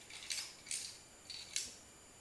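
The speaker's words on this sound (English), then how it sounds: "So it's just a little bolt right here. Just go ahead and twist it on out." Faint metallic ratcheting clicks as a small bolt is twisted out of a motorcycle exhaust baffle, four soft bursts of clicking spaced unevenly over about two seconds, close and quiet.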